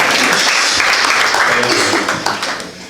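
Audience applause at a business meet-up, dense clapping that fills the room and fades toward the end, with a voice speaking over it.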